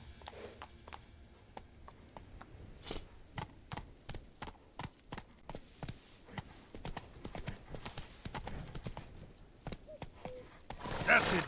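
Roach the horse canters in The Witcher 3, a steady rhythmic run of hoofbeats close up, with a voice calling out over it now and then.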